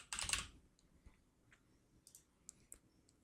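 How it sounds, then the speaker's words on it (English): Text typed on a computer keyboard: a loud clatter at the start, then sparse, faint single keystrokes ticking in a quiet room with no talk. "I can add some text. So I'm going to type in random"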